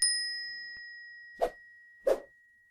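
A bright bell dings once with a long ringing decay, followed by two short soft swooshing taps in the quiet that follows.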